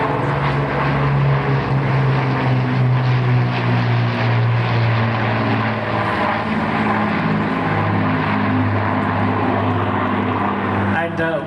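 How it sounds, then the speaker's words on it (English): Two Avro Lancaster bombers, one RAF and one Canadian, fly over together, their piston propeller engines giving a loud, steady, throbbing drone that holds throughout with no talk. "it's the RAF's Lancaster that's leading, and the Canadian Lancaster is second"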